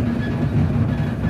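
A train on a rail ferry crossing to mainland Italy gives a steady, close low rumble with a faint rhythmic rattle, brief and continuous.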